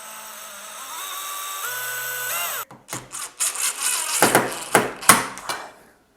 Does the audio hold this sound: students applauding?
no